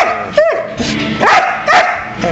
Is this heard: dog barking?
yes